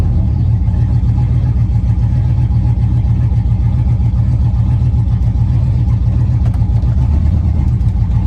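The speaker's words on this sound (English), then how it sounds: "my exhaust is kind of blown out" A van with a blown-out exhaust drives along, its engine a loud, constant low rumble and drone with throaty exhaust blatter throughout, steady with no pauses.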